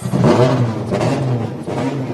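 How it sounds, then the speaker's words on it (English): Mazda race car engines fire up on pit lane, with loud, close, throaty rumbling and revving, several engines overlapping in a dense, continuous roar and no talk over it. "Engines fired down here on pit lane as we get set to go."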